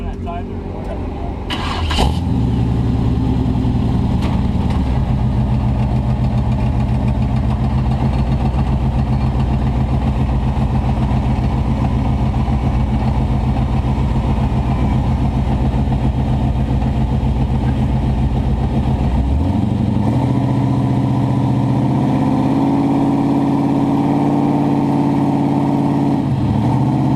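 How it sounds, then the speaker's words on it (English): A truck engine turns over and settles into a steady, loud rumbling idle, then revs higher and keeps droning as the truck moves during a winch recovery. "drive the truck at the same speed that the winch cable is pulling him"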